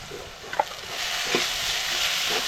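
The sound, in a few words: spices with garam masala sautéing in pan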